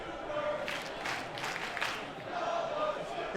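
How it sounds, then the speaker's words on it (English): At an ultimate frisbee open division final, the crowd raises a Scoober chant: several rhythmic bursts of voices rise and fall over steady background crowd noise, somewhat distant and moderately loud. "Now we'll throw a Scoober chant from the crowd."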